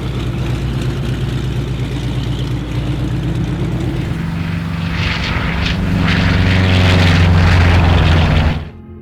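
A P-47 Thunderbolt's piston engine drones loud and close in World War II footage, a steady throbbing roar that swells and builds before cutting off abruptly near the end.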